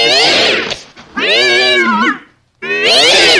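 A cat meows three times in long, drawn-out, whiny cries separated by short pauses, loud and close with no other sounds.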